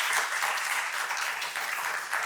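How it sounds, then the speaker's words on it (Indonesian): Schoolchildren in a classroom clap together in a short burst of dense, lively applause, loud and close, with no speech over it. "Tepuk tangan dong buat kita semua."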